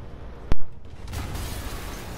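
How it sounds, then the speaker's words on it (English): An explosion in the Marvel's Spider-Man video game: one sharp, loud blast followed by a rumbling, crackling tail of debris and fire that fades into a continuing roar. "an explosion just..."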